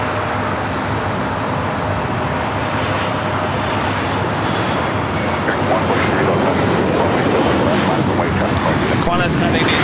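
A Qantas airliner taxis at Los Angeles airport near Tom Bradley terminal, its jet engines a loud constant roar filling the whole stretch, with radio voices underneath.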